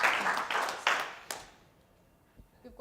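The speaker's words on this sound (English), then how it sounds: "Let's give a round of applause to" A small audience at an innovation fellowship pitch event in Indonesia gives brief, scattered applause, a few clap bursts over the first second and a half that quickly fade to near silence, with faint taps after.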